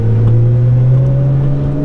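A Nissan GT-R R35 with a Titan Street Performer exhaust and catless downpipes drones loudly and steadily at a low, throaty pitch, holding a constant rev throughout.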